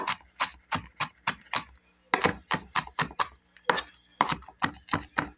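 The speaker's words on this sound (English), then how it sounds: "turn my knife the opposite direction, and run through it again" A knife chops strong onions on a cutting board in a steady, fast rhythm of crisp thuds, with one short pause partway through.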